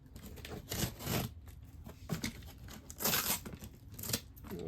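Taped cardboard packaging being torn open during an unboxing, with repeated close ripping and crinkling bursts in an uneven rhythm and no talking.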